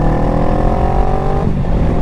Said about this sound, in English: This thing's got a nice exhaust on it.